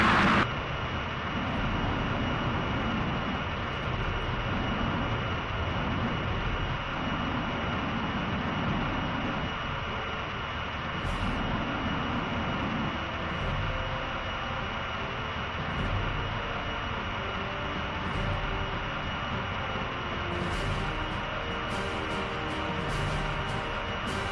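Black fighter jets fly in the Ace Combat 5 video game, giving a steady, loud, broadband engine roar that runs unbroken throughout, with a few sharp ticks near the end.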